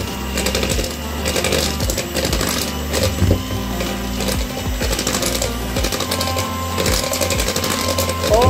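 An electric mixer beats orange cake batter, a steady, loud whirring buzz with rattling clatter throughout, close up with no speech.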